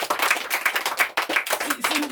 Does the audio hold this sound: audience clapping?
yes